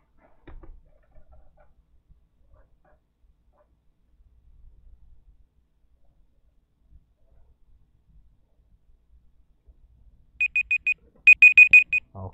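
An electronic timer alarm marks the end of a timed exam-review question, coming after a long near-silent stretch as two bursts of rapid, shrill beeping near the end, loud and close.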